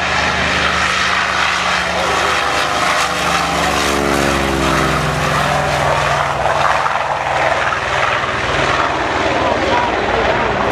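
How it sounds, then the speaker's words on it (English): A WWII-era FG-1D Corsair fighter, originally the F4U, roars steadily overhead at an airshow, its loud propeller-engine drone shifting in pitch as it passes. An announcer talks over it throughout. "FG-1D Corsair. Originally the F-4U Corsair"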